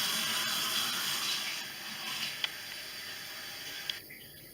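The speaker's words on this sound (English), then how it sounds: "Now that is actually taking water out of the tank now." Aquarium siphon tube drawing water out of a fish tank, a steady soft hiss and gurgle of flowing water with a couple of faint clicks, close and continuous.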